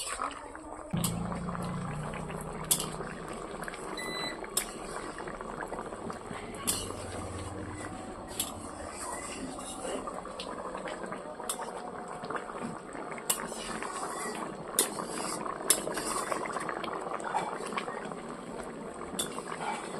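A fish curry of bata fish with potato and taro simmers with a steady bubbling, gurgling boil, close by, punctuated by occasional sharp clicks and faint background voices.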